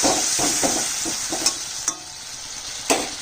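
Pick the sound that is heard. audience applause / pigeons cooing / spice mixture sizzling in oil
spice mixture sizzling in oil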